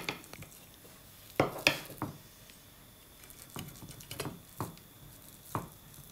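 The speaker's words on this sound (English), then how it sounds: "so we can just cut it up straight into the pan" Knife cutting through raw chocolate cherry breakfast bars in a pan, a few scattered soft taps and clicks of the blade against the pan, quiet and close, with short pauses between cuts.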